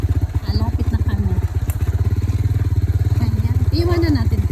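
A motorcycle engine runs close by at a steady, rapid low putter throughout, with voices and shouts on a farm heard over it.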